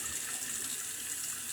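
Water runs from a tap into a sink to heat up for shaving, a steady hissing splash at a low level, close by and uninterrupted, with no one talking.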